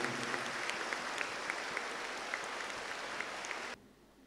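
A church congregation claps loudly and steadily in unison, a dense continuous wall of applause with a regular beat that cuts off abruptly near the end, leaving quiet room tone.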